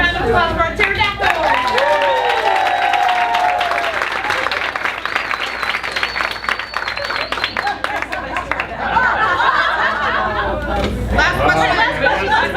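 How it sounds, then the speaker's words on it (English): Applause and cheering from a classroom audience at a group presentation, steady clapping throughout with crowd chatter and voices mixed in. "A round of applause for our pterodactyl."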